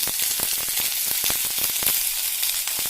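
Whole dried chilies crackle and sizzle in hot oil in a pan while tomato theeyal is being made, a dense, steady frying hiss with sharp pops scattered throughout, close and fairly loud, with no talking.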